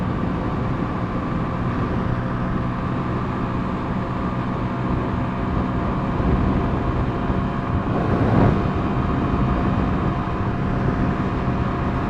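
A stock 2019 Honda Monkey motorcycle at full throttle on the road, its engine a steady, droning roar mixed with wind rush, holding constant with a brief swell near the end and no talking.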